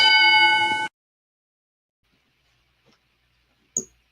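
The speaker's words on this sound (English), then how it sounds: "I get a bell." Bell ringing in a video game, a single bright clang with a long ringing tone that stops abruptly, followed by near silence and a brief faint knock later.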